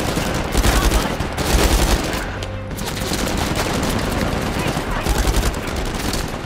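Rapid bursts of gunfire from a third-person action game, Uncharted 4: A Thief's End on PS5, crackle in a steady, dense barrage with occasional heavier thumps, loud and continuous, with a player speaking over it.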